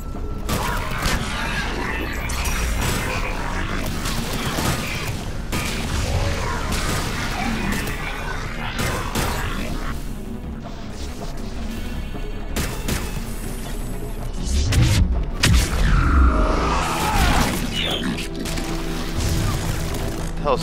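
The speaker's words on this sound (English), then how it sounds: "Oh no! Yep, grenade." A grenade blast in the video game Mass Effect 3 booms out amid dense combat noise, gunfire and mechanical clatter, with a heavy low-end burst around the middle and a voice speaking over parts of it.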